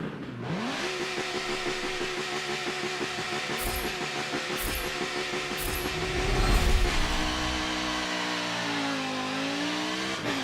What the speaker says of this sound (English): I'll let you hear engine sounds.